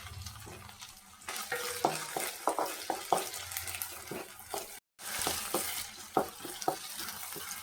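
Tomato with ginger garlic paste and curry leaves sautéing in a pan on a medium flame, a soft sizzle broken by repeated clacks and scrapes of a stirring spoon, with a brief dropout midway, no voices.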